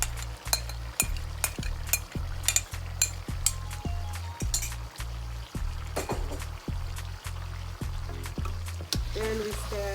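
Lamb liver sizzles in a frying pan while a utensil stirs and scrapes it in regular strokes, with sharp clinks against the pan over a steady frying hiss.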